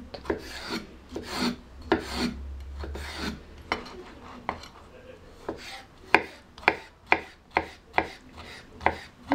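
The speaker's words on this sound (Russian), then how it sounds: "Теперь один соленый огурчик на это количество. Нарезаю кубиками." A knife dices a pickled cucumber into small cubes on a cutting board while kidneys in sour cream are being prepared, giving close, loud chops that start irregular and settle into a steady, evenly spaced rhythm near the end.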